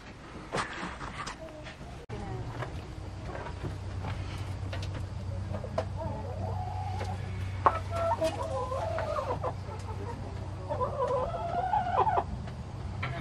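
Chickens cluck inside a backyard chicken coop, scattered soft clucks and calls over a steady low hum, fairly faint with no talking.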